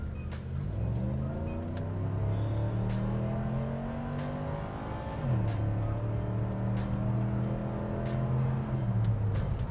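A 1999 Ford Taurus SHO accelerates hard through two gear pulls, its engine note climbing steadily, dropping at the shift, then rising again, heard from inside the car with no talking.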